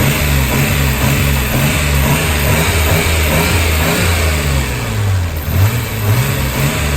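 A Nissan GT-R at a used car auction yard revs hard and loud up close, its engine rising and falling through several throttle blips over a steady rumbling idle.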